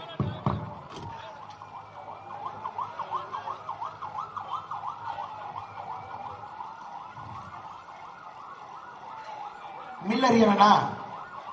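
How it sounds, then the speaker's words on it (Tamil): An ambulance siren wails in a steady rising-and-falling cycle at moderate distance during a political speech, fading toward the end before a louder burst of noise, with a voice heard briefly. "இன்னொரு ஆம்புலன்ஸ் வர்ற மாதிரி இருக்குங்கண்ணா"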